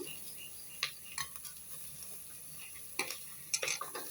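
Vegetables including capsicum and carrot sauté in a pan for basmati fried rice, with a soft steady sizzle under scattered spatula scrapes and clinks against the pan, close and fairly quiet.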